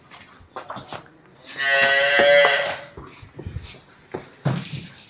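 A dairy cow for sale at a farm lets out one long, loud, close moo in the middle, set between scattered shuffling and thumping farmyard noises.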